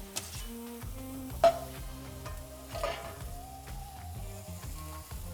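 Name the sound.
green peppers sautéing in coconut oil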